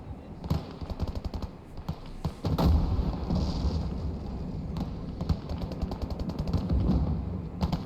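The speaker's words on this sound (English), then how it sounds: "I think he shot that thing and it blew up" Rapid machine-gun bursts and rifle fire crackle in a World War II Eastern Front battle in Gates of Hell Ostfront, then a heavy booming explosion rumbles and sustained gunfire continues beneath it, loud and close.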